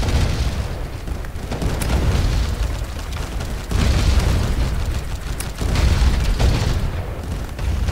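Pirate ship cannons firing in a Roblox naval battle game, deep booming blasts and bursts repeating over a steady rumble, loud and close, with no talk.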